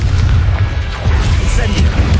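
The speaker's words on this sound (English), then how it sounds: "Confringo." Confringo blast spell in Hogwarts Legacy, a dense rumbling boom with continuous low-end roar and crackle, loud and close, with battle noise layered throughout.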